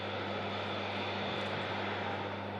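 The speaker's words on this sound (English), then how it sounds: "Iceland Air 75 is going to be the next aircraft to touch down." An Icelandair 757 comes in to touch down, its engines a steady, broad roar with a low hum underneath, holding constant over the whole stretch.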